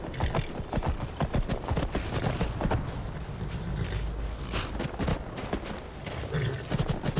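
A horse's hooves clip-clop in the Skyrim video game, a busy run of sharp, uneven knocks over a low rumble, fairly close and moderately loud.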